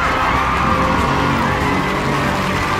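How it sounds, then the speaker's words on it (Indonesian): Children at a school competition's prize announcement clap and cheer in a loud, continuous crowd roar with scattered shouts and whoops throughout. "Tepuk tangan semangat."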